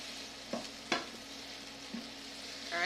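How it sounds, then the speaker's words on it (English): A spoon scrapes browned bits from the bottom of a hot pan while liquid sizzles steadily, with a few sharp scraping strokes standing out near and clear. "get all the brown flavor bits off the bottom of the pan and get them back in the solution"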